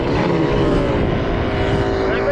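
Off-road quads at the Glamis dunes, Yamaha Banshees and Honda 250Rs, give a continuous loud, buzzing two-stroke engine drone that holds steady throughout, with a voice talking faintly underneath.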